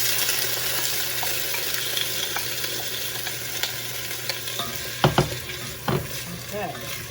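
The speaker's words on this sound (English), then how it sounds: "Now I'm going to add these potatoes." Potatoes hit a hot pan with garlic, giving a steady close sizzle and frying crackle, with a few sharp clatters near the end as they are stirred.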